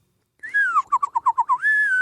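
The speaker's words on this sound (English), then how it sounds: "I whistle backwards." A person whistles while inhaling, a clear close tone that slides down, breaks into six quick warbling pulses, then settles into a steady held note, with no talking.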